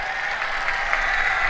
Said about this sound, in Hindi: एक बार जोरदार तालियों की आप सबसे स्वागत के लिए